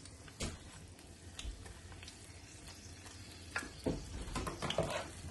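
Corn dogs fry in hot oil with a continuous crackling sizzle, punctuated by occasional sharper pops and utensil knocks, close and moderately loud with no speech.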